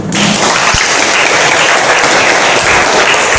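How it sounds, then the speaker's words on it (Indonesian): A class of students applauds during a physical education lesson, a loud, dense and continuous wash of clapping that holds steady throughout without pause. "Tepuk tangan dulu Tio."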